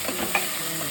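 Onions, added after bay leaves and cardamom, fry in hot oil in a pan, giving a close, steady sizzle with a brief sharper crackle partway through.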